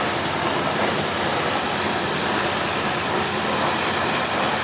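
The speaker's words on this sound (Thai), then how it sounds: "เครื่องปั๊มน้ำจะดังหน่อย" Steady, loud broadband roar of a water pump engine at a car wash, running continuously nearby, with a constant hiss and low rumble and no pauses.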